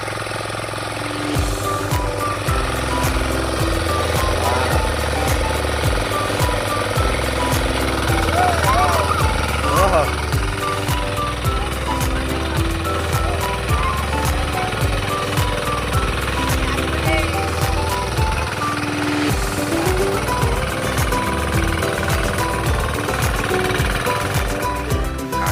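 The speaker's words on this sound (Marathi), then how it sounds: "तो विराज चालवता ट्रॅक्टर" Loud, continuous chugging of a tractor engine working a flooded paddy field during Konkan rice planting, steady throughout with a rhythmic knocking beat.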